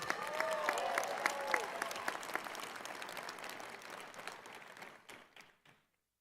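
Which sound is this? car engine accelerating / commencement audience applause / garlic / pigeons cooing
commencement audience applause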